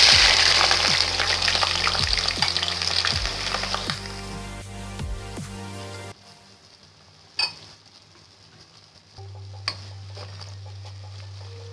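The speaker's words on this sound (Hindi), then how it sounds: "कुकिंग ऑयल अच्छी तरह से गर्म हो चुका है। अब मैं इसमें डालूंगी प्याज" Onion frying in hot cooking oil gives a loud, dense sizzle at the start with repeated stirring clinks, then the sizzle dies down into quieter crackles and a low steady hum, with no voices.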